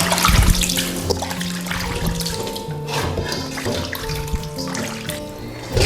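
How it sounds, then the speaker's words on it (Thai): Water pours and splashes out of a bowl in a continuous gush after salt-washing catfish, close and fairly loud, with soft background music underneath. "เราก็เทน้ำออกเลย แล้วก็เทกลับเอาไปค่ะ"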